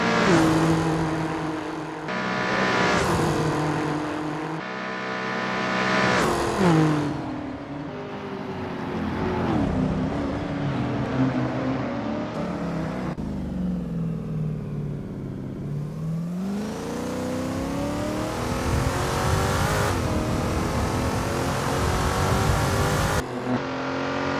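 A 1960s race car on a flying practice lap at Preluk 1974 in Assetto Corsa, engine revving hard through gear changes, dipping on deceleration and climbing again, loud and continuous with whining harmonics.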